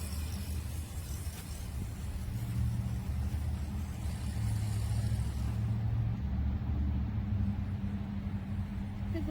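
A DEERC 1:16 brushless remote-control monster truck with oil suspension drives nearby, giving a continuous, fairly loud rumbling motor drone that rises slightly and holds steady.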